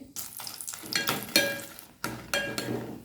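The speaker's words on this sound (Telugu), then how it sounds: "ఎండుమిర్చి కొంచెం కలర్ చేంజ్ అయ్యేంత వరకు ఫ్రై చేయాలి" Oil sizzles and crackles in short bursts while dried red chilies are stirred in a pan, with faint scrapes between the spurts of frying.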